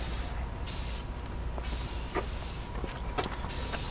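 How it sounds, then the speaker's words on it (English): Spray can paint being applied to a mini split unit, four loud hissing bursts of about half a second to a second each, separated by short gaps, close by. "Start painting from the other direction."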